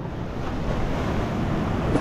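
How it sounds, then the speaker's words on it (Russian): Sea waves break against a rocky shore with caves on the Turkish coast, a continuous loud roar of surf and wind buffeting the microphone, with no one speaking. "Волны здесь бьют."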